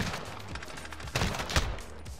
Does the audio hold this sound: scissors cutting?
no